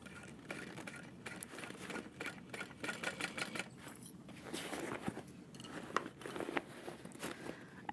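A sewing machine stitches a lined handbag, its needle chattering in quick irregular bursts with small rustles of fabric, fairly quiet and close, with no talking.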